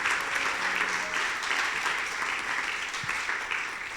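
A church congregation claps loudly for the Lord at the close of a Spanish-language service, with sustained, dense applause filling the room for several seconds and a faint tone briefly underneath.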